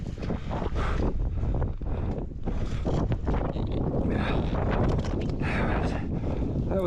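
Strong wind buffeting the microphone on a black diamond mountain bike trail at South Lake, a loud continuous roar with gusty surges and no clear speech.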